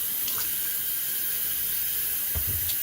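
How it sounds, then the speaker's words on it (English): Potatoes are rinsed under a running kitchen sink tap. Water streams in a steady, close hiss, broken by a few splashy knocks and clatters near the end, with no speech. "So this is just me rinsing off the potatoes."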